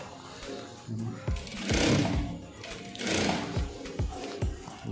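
Sewing machine stitching a shirt collar, short bursts of whirring motor and needle clatter, close and fairly loud, with pauses between runs.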